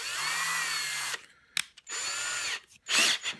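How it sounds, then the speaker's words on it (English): A power drill with a larger bit boring out a pilot hole for a DIY low-profile XLR connector, loud close whirring in bursts, spinning up and down with brief stops between runs. "Just take this drill bit off and we'll go for the larger drill bit."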